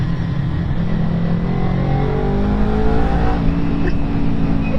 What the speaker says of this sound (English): I've got a loud exhaust.